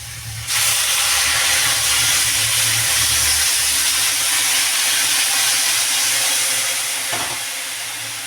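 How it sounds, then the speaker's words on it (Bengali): Water is poured into a hot pan of curry for a rohu fish and bottle gourd dish, setting off a loud, broad steam hiss that bursts in abruptly and holds steady, with a bubbling rumble underneath, then slowly fades. "এবার দিয়ে দেবো জল"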